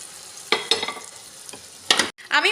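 Pointed gourd (potol) stirred in a pan for a poppy-seed curry, giving a handful of distinct scraping strokes over a soft frying sizzle, close and moderately loud, with no talking.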